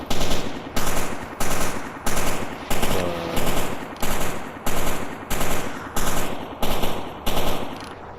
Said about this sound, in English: What the fuck is he still firing in that direction?